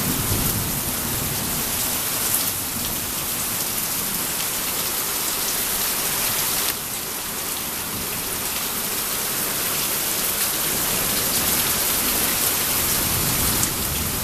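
A strong thunderstorm in Wilmore, Kentucky: heavy rain roars continuously and loudly, with low rumbling thunder rolling beneath the downpour and no voices.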